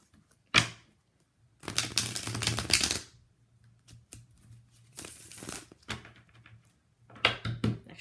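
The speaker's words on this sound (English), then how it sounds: "Shuffle one more time." Bursts of rapid, crisp riffling as tarot cards are shuffled, several separate rounds with quiet pauses and a soft hum between them.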